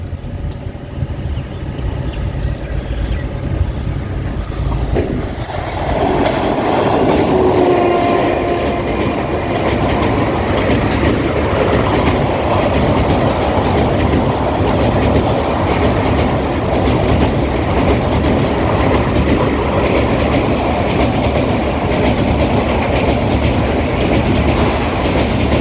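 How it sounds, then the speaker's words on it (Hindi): A passenger train passes on the up line at about 110 km/h. It builds quickly into a loud, sustained rumble with rhythmic clickety-clack of wheels on rail joints, which holds close and steady throughout. "ये अपलाइन की ट्रेन है, ये अपने थ्रू स्पीड 110 km से निकलेगी।"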